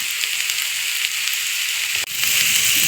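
Crushed garlic, ginger and chopped green chili fry in hot oil in a pan, a steady close sizzle and hiss with a sudden dip and fresh crackle as more goes in near the end.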